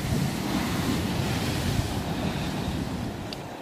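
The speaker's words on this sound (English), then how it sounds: "look at some big waves today" Big sea waves break and roll continuously along the shore at Walton on the Naze, a loud, steady roar of surf mixed with wind buffeting the microphone.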